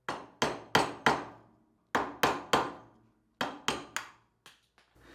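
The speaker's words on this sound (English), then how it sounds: "So tap it off with the screwdriver." A screwdriver is tapped against a driveshaft seal on a 1980-1996 Ford Bronco double cardan U-joint, giving sharp metallic knocks in quick bursts of three, repeated three times with short pauses, close and clear.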